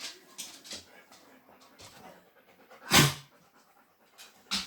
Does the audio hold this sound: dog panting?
yes